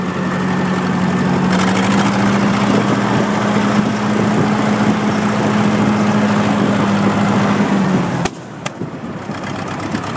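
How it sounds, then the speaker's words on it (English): A Case 830 tractor's four-cylinder gasoline engine runs at a steady drone with wind noise over it, then suddenly drops off near the end, followed by a couple of faint knocks. "But it's a 830 case with a 4-cylinder gasser with a factory wide front."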